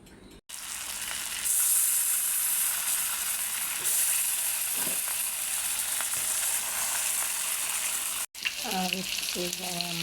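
Puti fish curry with plantain cooking in a pan, giving a steady, close hiss of frying and sizzling that runs almost without a break, with a voice speaking briefly near the end.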